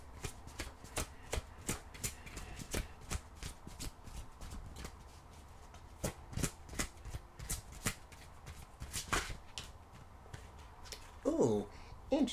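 Oracle cards being shuffled by hand in a quick run of crisp riffling snaps, close and steady, with brief quiet talk near the end.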